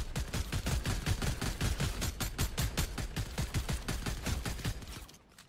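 Rapid automatic gunfire in a German-language shooter video game, a fast steady burst of loud, close shots running almost unbroken for about five seconds before cutting off abruptly.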